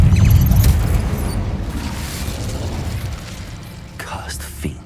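Incendio fire spell in Hogwarts Legacy: a loud booming whoosh of flame at the start that fades into a rumbling crackle, then a sharper burst near the end, with a voice speaking over it.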